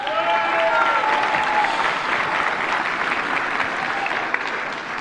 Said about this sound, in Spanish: Para él un aplauso.